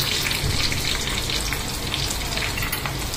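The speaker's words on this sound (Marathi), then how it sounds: "कांदा थोडं भाजल्यानंतर आला लसूण टाकता." Onion with ginger and garlic fries in a pan for a spicy Malvani-style crab curry, a steady close crackling sizzle that holds evenly throughout without talking.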